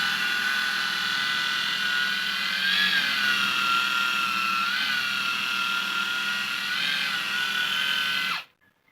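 A sanding wheel polishes scratched glass with a steady high-pitched electric whine that wavers slightly in pitch, loud and close, then cuts off abruptly at the end.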